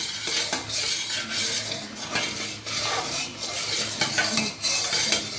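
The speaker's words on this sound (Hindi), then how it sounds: "दोस्तों, इसमें चम्मच कंटिन्यूसली हिलाते रहना है।" A spoon stirs kheer in a pot, clinking and scraping against the metal in a busy, continuous rhythm with a faint sizzle of the milk cooking underneath, close and fairly loud.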